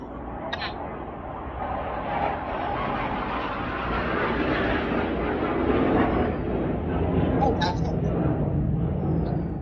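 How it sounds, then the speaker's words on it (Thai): A loud, continuous rumble of a rocket or jet passing low overhead, broad and steady for the whole stretch with faint voices underneath. "ได้ยินเสียงจรวด"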